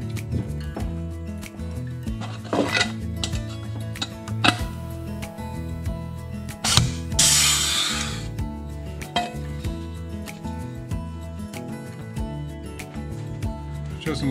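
A pneumatic pop rivet gun, fed by an air hose set at 90 PSI, sets a rivet while an RV-12iS aircraft kit is being built. Light handling clicks lead up to one sharp pneumatic burst with a brief hiss about halfway through.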